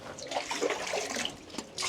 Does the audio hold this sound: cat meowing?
no